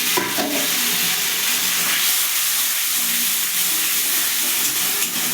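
Wash water poured into a hot pan of ground ginger and cumin spice paste, giving a loud, steady hissing sizzle of steam that continues unbroken throughout.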